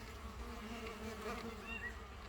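Stingless Melipona bees buzz continuously while a colony is being divided and brood discs separated, a close, dense, wavering hum of many insects with no talk.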